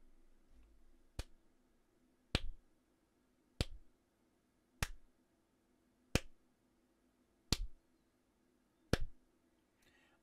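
Seven slow, evenly spaced claps ring out crisply over a quiet background, each one a sharp isolated hit with roughly a second and a quarter between them.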